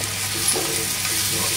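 Ginger, garlic and green chili paste sautés in a pan with turmeric, asafoetida and coriander powder, making a soft, steady sizzle up close with a brief scrape partway through.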